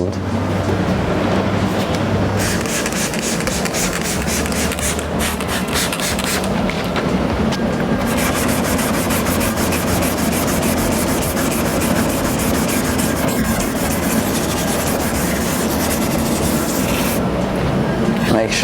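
A sanding disc grinds continuously against a heavily faded, wet plastic headlight, stripping the old clear coat with a steady, harsh rubbing whir that rises and falls in passes, loud and close throughout.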